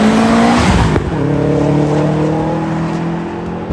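A Japanese car with an aftermarket exhaust drives past close and loud, its engine droning with a strong rising pitch before settling into a steady hum.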